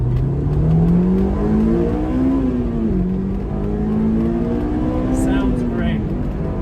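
A Honda S2000 two-seat rear-wheel-drive sports car revs and accelerates, its engine note climbing loud and close, dipping briefly at a shift, then climbing again, with a person speaking over it.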